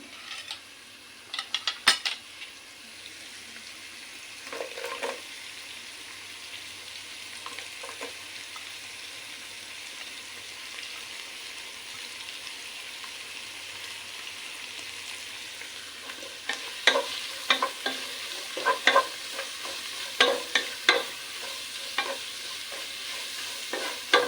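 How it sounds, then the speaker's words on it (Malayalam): Onions stirred and frying in a pan for hamour fish mappas, a steady soft sizzle under bursts of clinking utensil scrapes, the stirring growing busier toward the end, with no talk. "അടുത്ത് നമ്മളതിലേക്ക് സവാള ഇട്ട് കൊടുക്കണം"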